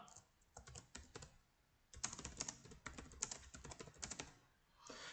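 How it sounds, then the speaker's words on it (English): Someone types on a computer keyboard, a fast, close run of light clicking keystrokes in bursts with short pauses, alone in a quiet room. "I'm going to type my question down."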